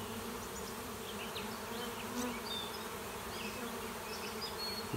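Honeybees buzz steadily around a hive during a late-season swarm, a dense, continuous drone with individual bees passing close now and then, no voices present.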